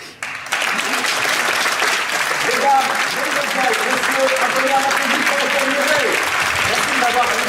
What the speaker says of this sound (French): peut-être qu'ils vont applaudir, il y aura un tonnerre d'applaudissements